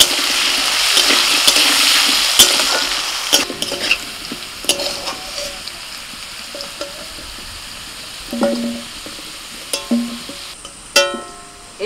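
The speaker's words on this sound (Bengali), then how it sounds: "একটু হলুদ গুঁড়ো আর একটু নুন দিয়ে আলুটা ভেজে নেব।" Potato pieces frying in oil with turmeric and salt, a soft sizzle under repeated clinks and scrapes of stirring in the pan, with no talking.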